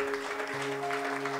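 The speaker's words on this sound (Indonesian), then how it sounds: "Tepuk tangan bagi Dia." A church congregation claps steadily in a brief burst of applause, a dense even patter of many hands under a sustained keyboard chord.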